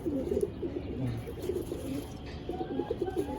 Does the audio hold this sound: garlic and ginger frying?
no